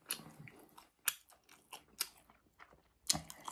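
Dumplings soaked in broth, from frozen military PX food, being chewed close up with soft wet crunches and bites in irregular bursts, no talking.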